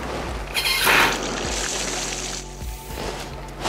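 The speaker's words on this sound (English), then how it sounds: "and let's add some water." Water is poured into a wide white-surfaced container set on a magnetic stirring machine, giving a short, fairly quiet splashing pour followed by softer trickling and faint mechanical hum.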